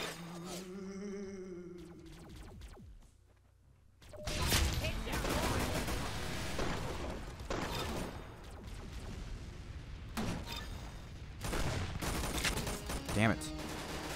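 Rapid bursts of gunfire in the Roblox shooter Arsenal, loud and dense, with several clustered volleys and sharp cracks after a quieter opening, continuing almost unbroken to the end.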